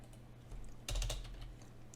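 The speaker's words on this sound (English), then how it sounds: "If we go to vehicle database and we type in Fokker" Quick bursts of computer keyboard typing as a search for a Fokker is entered into a vehicle database in the game Aeronautica, loud and close, with a dense flurry of keystrokes near the middle over steady low background hum.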